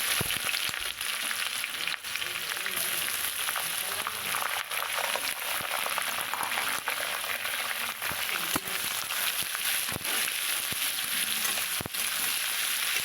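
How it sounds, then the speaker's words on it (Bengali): Whole garam masala, a dry red chili and bay leaf spit and crackle in hot oil, a loud, dense sizzle with frequent sharp pops, heard close with no talking. "এখানে আমি গোটা গরম মশলা দিলাম একটা শুকনো লঙ্কা তেজপাতা ফোড়ন দিলাম"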